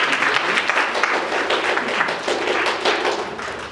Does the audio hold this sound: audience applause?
yes